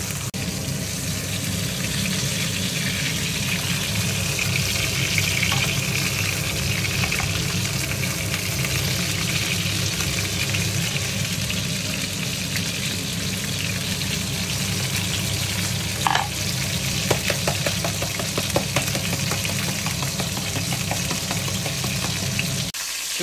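A chuck roll beef steak sizzles with garlic in a hot pan, a steady close crackling fry that runs unbroken for over twenty seconds with occasional small pops and no talk.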